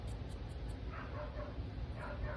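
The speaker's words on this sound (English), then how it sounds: "Oh, and there goes the other dog." A dog barks and yips faintly in the distance, a few short bursts over a constant low background hum.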